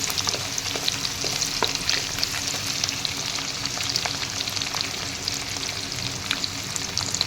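Onions for duck curry are stirred and fried in a hot pan, giving a dense, continuous sizzle with the scrape of a spatula throughout and no talking.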